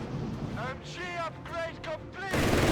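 Machine guns fire on Panzers in a Company of Heroes 3 battle, with crackling bursts and booms of combat running under a commentator's steady talk, then swelling louder at the end.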